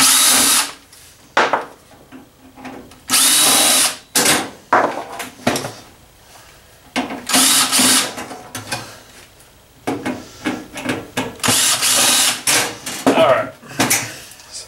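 A cordless power drill backs screws out of a bread maker being scrapped, several short loud whirring bursts separated by pauses, mixed with metallic clinks and rattles of the appliance housing.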